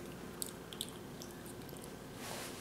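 A 12-year-old crunches down on a scorpion, soft biting and chewing crackles under steady background hiss, with a couple of sharper bites near the start.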